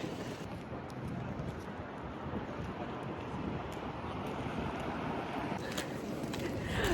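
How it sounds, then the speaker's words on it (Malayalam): Wind roars steadily with light snow in Helsinki, broad, gusty noise buffeting the microphone, continuous and fairly loud, with no voices. "ചെറുതായിട്ട് സ്നോ ഉണ്ട്, നല്ല കാറ്റും ഉണ്ട്."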